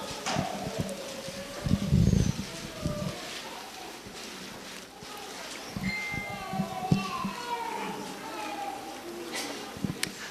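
Babies and small children babble and cry out intermittently during a church service, scattered small voices heard over room noise while an adult talks in Spanish.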